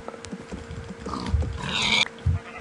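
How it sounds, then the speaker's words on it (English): Pig oinks in Minecraft, a few short blocky grunts, the clearest bursts near the start, middle and end, over faint game ambience with no talk. "There's also a pig and a couple and a couple sheep."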